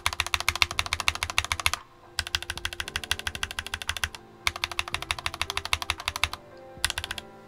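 Typing on a Ranked Nova n60 60% wired mechanical keyboard with yellow linear switches: rapid, close, clacky keystroke bursts in three long runs separated by brief pauses, ending with a short final burst.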